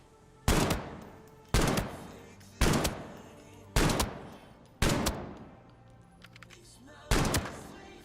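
Six evenly spaced gunshots from a shooter game fired at long range, each a sharp loud crack with a short ringing tail, about one per second with a brief gap before the last.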